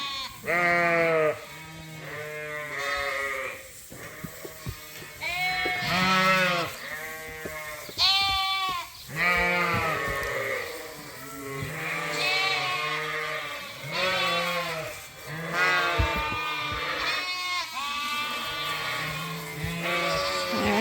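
A flock of sheep and lambs on a farm bleat almost nonstop, many overlapping calls near and far as the lambs search for their mothers, with no talking.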